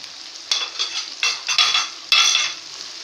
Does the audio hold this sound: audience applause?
no